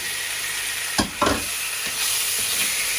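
Frozen plums drop into a hot frying pan, bursting into a loud sizzle with a couple of sharp splashes near the start, then settling into a continuous close hiss; no talking.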